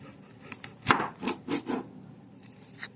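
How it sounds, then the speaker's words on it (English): Knife cutting through an onion on a board, a sharp chop followed by three quick softer cuts and a few faint later taps, close and alone. "Today I will be teaching you how to cut an onion."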